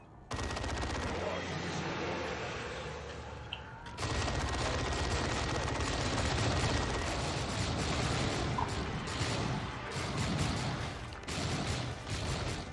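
An assault cannon in Dawn of War 2 keeps up a loud, sustained rattling barrage of rapid automatic fire, briefly dipping near the four-second mark before surging on amid battle clutter.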